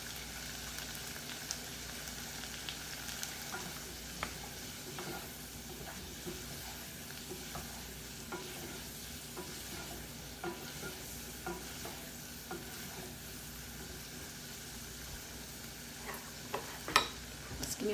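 Green bell pepper curry fries in a pan with a steady soft sizzle and hiss, as a spoon stirs now and then with faint scrapes and taps.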